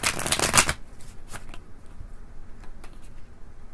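Quick riffle of a tarot deck being shuffled up close, a dense burst of card flutter for under a second followed by a few soft, sparse taps and slides of cards.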